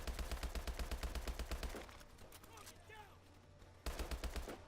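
Automatic gunfire in the video game Call of Duty: Advanced Warfare, set in snow. A loud, rapid burst runs for almost two seconds, pauses while fainter game sounds play, then resumes for another short burst.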